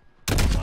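A single loud gunshot in a video game shooter, bursting abruptly after a near-silent moment and ringing out with a dense, booming tail.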